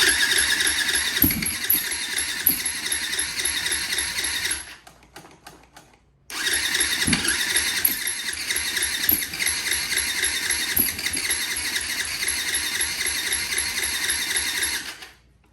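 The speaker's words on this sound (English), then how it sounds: "Let's see if the electric start works." A 450 dirt bike's electric starter whirs and cranks steadily without the engine catching, stopping briefly for about a second and a half before cranking again for several more seconds, loud and close.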